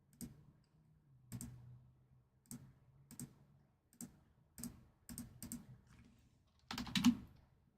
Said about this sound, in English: and I'm typing it out